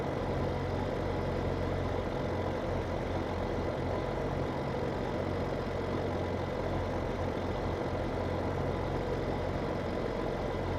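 A tractor engine idling in Farming Simulator 2017, a constant low droning rumble with a steady mid-range hum, unchanging and with no talk.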